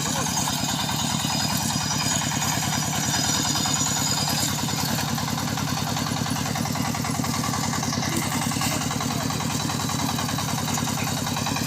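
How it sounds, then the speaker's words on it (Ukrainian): A light, rear-wheel-drive small tractor engine chugs steadily with a rapid, even putter, idling nearby at moderate loudness without a break. "Тракторець легенький, задньоприводний."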